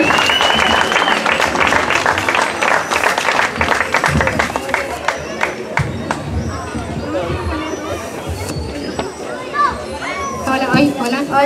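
An audience at a singing contest applauds and cheers in a loud, dense burst of clapping mixed with crowd babble and children's voices, fading into chatter toward the end.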